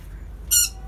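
A black-capped lory parrot gives a single sharp, loud squawk lasting about half a second, rising abruptly out of a quiet, low room hum.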